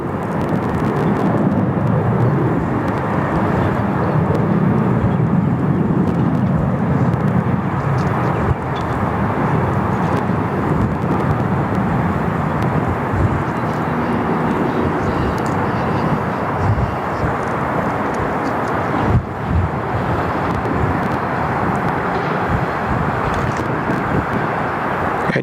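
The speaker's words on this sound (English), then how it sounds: "Jets just rolling out there on runway 3 for left" Jet airliners rolling on a runway at Sydney Airport, a loud sustained engine roar and rumble that swells and eases over about 25 seconds, with a voice talking at times.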